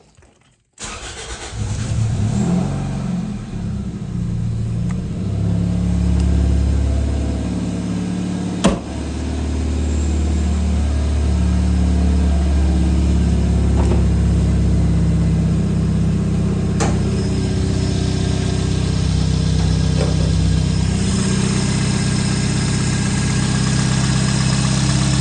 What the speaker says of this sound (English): I think something's rattling up there. A little belt squeal.